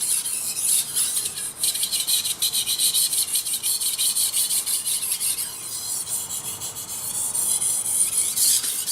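A blade is polished on a Japanese Chroma P35 waterstone with light pressure, a close, continuous wet scraping and rubbing with repeated back-and-forth strokes, no voices.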